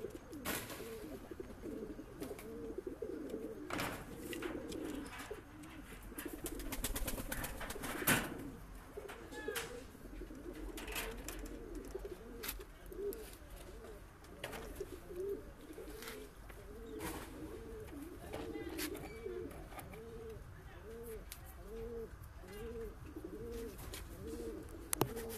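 Several pigeons coo steadily in a loft holding a male, a female and a chick, their soft rolling calls layered close together with occasional wing flutters and brief human sounds.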